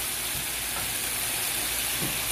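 Pangas fish frying in a spiced curry base in a pan, a steady soft sizzle with faint stirring clinks, continuous and close with no talking.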